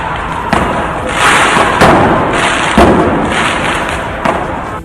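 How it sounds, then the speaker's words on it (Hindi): Firecrackers set off by protesters on a road in Kota during an angry demonstration: a run of sharp, loud pops and thuds at irregular intervals over a continuous crackling roar. "उन्होंने सड़क पर पटाखे छोड़ दिए।"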